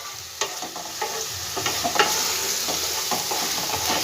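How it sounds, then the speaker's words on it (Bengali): Onion, ginger and garlic paste frying in a pan, a continuous close sizzle with intermittent stirring clicks and scrapes, no voices. "ভালো করে একটু ভেজে নেব আদা রসুন বাটা পেঁয়াজটা"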